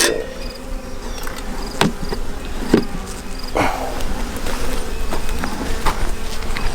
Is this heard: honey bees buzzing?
yes